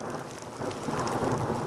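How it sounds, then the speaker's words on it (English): Thunder rolls close by during a sudden thunderstorm at Pine River, Minnesota, a deep rumble swelling over steady rain. "Thunder."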